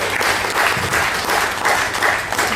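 Loud, sustained applause from a crowd fills the whole moment, a dense steady clatter of many hands clapping.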